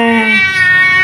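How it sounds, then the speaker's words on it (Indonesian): A cat meows for food in a home kitchen, a single loud, drawn-out, close-up cry. "ini kucing yang sabar ini"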